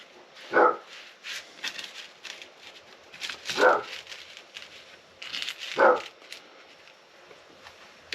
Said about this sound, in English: Dog barking again.